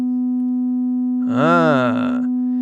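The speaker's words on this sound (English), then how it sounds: "watch what happens when I flip in this plugin and create a little bit of that harmonic distortion" A single steady test tone runs throughout, then a harmonic distortion plugin switches on and stacks bright overtones above it for about a second before they drop away, leaving the plain tone again.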